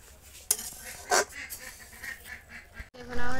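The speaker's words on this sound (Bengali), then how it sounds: "এবার একটু নেড়ে চেড়ে দেবো।" A homemade duck egg bhuna made with country duck eggs is stirred in a pan, with a few sharp scrapes and clatters over a low, quiet background, close by and brief.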